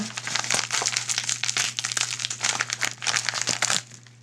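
Plastic bag packaging for a Gomexus knob crinkles and rustles up close in quick, irregular bursts for a few seconds, with no talking.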